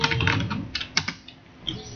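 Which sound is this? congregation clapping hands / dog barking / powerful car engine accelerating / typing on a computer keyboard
typing on a computer keyboard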